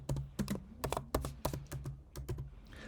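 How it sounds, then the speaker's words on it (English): Keys clack in an irregular burst of distinct strokes on a computer keyboard while text goes into a form field, fairly close and clear, with no voices. "if I type something in"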